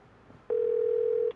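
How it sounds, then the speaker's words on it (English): Telephone ringing in a video game: a single sustained electronic ring tone that starts abruptly and holds for under a second, clear and alone against a quiet background. "There's always gotta be a phone ringing in these games."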